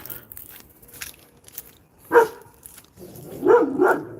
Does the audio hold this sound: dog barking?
yes